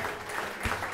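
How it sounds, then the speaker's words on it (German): A theater audience in a small Brandenburg theater claps, a dense steady wash of applause heard close, with a voice briefly over it. "Großen Applaus."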